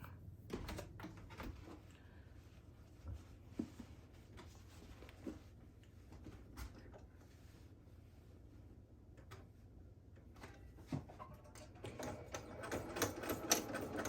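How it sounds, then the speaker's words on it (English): A sewing machine runs quietly in short bursts, with faint mechanical clicks and rattles, growing a bit louder near the end. "I'm gonna take it to the sewing machine and I'm just gonna stitch down right there"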